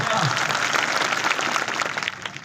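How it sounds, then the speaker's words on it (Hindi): Dense, steady applause from a crowd fills the whole stretch, loud and continuous without pause. "बहुत जोरदार तालियां एक बार और बजाए"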